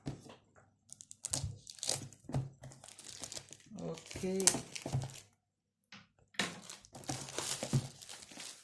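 A package is opened with scissors in loud bursts of crinkling and crackling plastic wrap separated by short pauses, while a person talks close by between the rustles.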